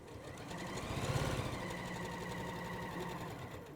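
A sewing machine stitching fabric slowly around a curve, its steady, close mechanical whir and rapid needle chatter running continuously without a break, with no voices.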